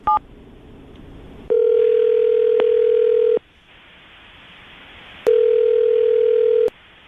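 A telephone line rings out while a call is placed: after a short blip, two long, steady electronic tones of about two seconds each sound loud and close, separated by a quiet gap.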